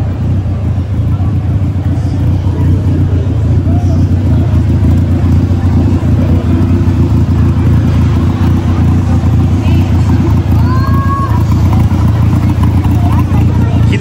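A Ford F100 pickup truck rolls along slowly, its engine giving a steady, loud low rumble throughout while people talk over it inside the cab.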